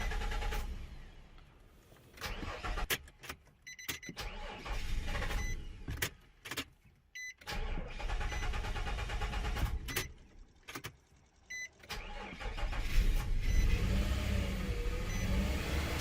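Nissan Frontier engine with a long crank before catching: repeated starter whirring bursts and clicks, pauses, then a rough running idle with misfiring, moderately loud and close, no talk.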